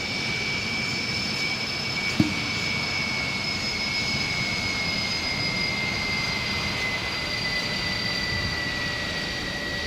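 Steady jet engine drone of an Airbus Beluga XL in the X-Plane flight simulator, a continuous broadband roar with sustained high whine tones, one brief click near the start, no talk.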